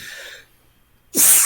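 A single loud, close sneeze bursts out near the end, preceded by a brief breathy intake and a quiet pause.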